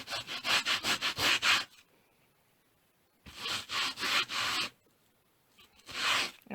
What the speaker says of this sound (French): De l'eau et du savon. Et après on frotte directement le tampon.